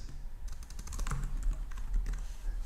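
Fingers typing on a computer keyboard, a close run of quick uneven clicks and taps, with no voices.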